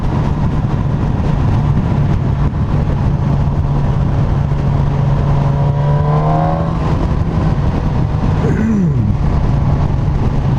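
A 2019 Suzuki GSX-S 1000F motorcycle engine pulling hard in third gear, a loud steady drone rising in pitch under constant wind rush, then easing off near the end.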